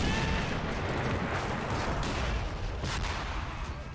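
Tank and gunfire exchange in a Men of War battle game, a dense steady roar of distant artillery and rifle shots layered together, loud and continuous throughout.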